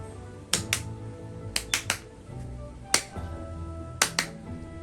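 One person claps sharply by hand to cleanse a room, about nine crisp claps close by in loose clusters of one, two and three, separated by quiet pauses.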